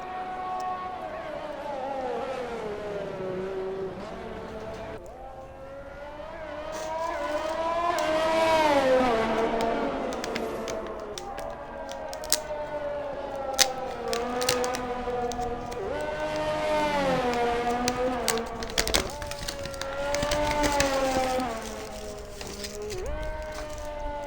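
A race car laps a Saudi Arabia circuit in a realistic racing video game, its engine whining and shifting up and down through the gears at high revs, with brief clicks and a commentator talking over the steady engine drone.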